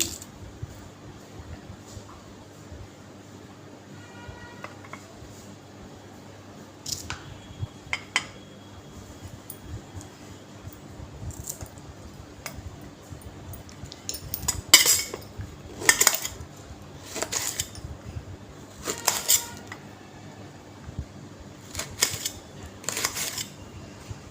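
A knife chops okra into pieces on a board. Sparse, quiet clicks and taps come at first, then a cluster of sharper, louder knocks toward the middle and end, close by and with no talking.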